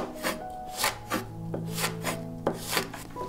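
A knife slices half a white onion into thin strips, giving about nine crisp, evenly spaced cutting strokes close by with no voices.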